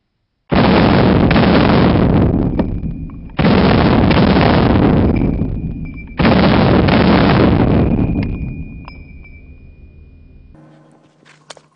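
Three loud, close gunshots fired from a prone position on the floor, each a sharp blast followed by a long booming decay, evenly spaced a few seconds apart, with no talk.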